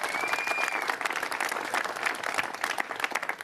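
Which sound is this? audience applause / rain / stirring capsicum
audience applause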